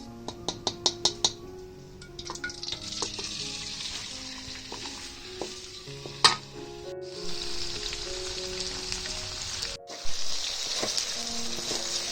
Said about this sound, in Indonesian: Sekarang kita goreng